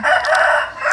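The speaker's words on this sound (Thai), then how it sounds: "เอามีเสียงไก่ขันในเด้อ" A rooster lets out a loud, brief crow close by, cutting off after under a second.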